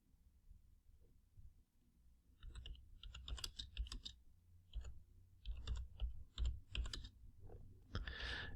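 Someone types on a computer keyboard, bursts of quick close clicks separated by short pauses, quiet with a faint background hum.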